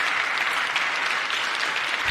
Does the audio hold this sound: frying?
no